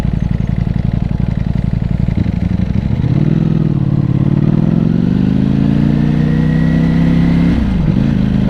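A Ducati Panigale V4 motorcycle engine runs at full throttle, a loud close rumbling roar that climbs in pitch as the bike accelerates, then dips briefly near the end, with no talk.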